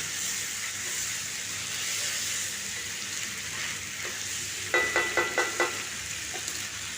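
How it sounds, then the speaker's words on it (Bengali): Ivy gourd and potato frying in a pan, with a steady close sizzle throughout and a quick run of five or six spatula scrapes as the pieces are stirred near the end. "এদিকে কুঁদরি আলুকে আমি আবারও নাড়তে থাকবো, নেড়ে নেড়ে কষে নেব খুব ভালো করে।"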